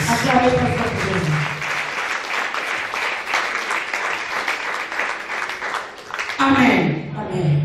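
A church congregation at a sermon claps loudly and continuously for several seconds, while a preacher's voice rises over the applause at the start and end.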